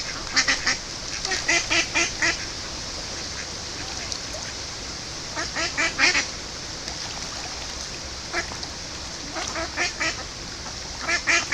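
Ducks on a canal beside a moored narrowboat quack loudly in repeated bursts of overlapping calls, with brief quieter gaps between the outbursts.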